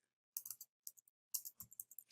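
Sparse, faint clicks of typing on a computer keyboard, entering a git remote address, arriving in short irregular clusters with quiet pauses between keystrokes and no voices.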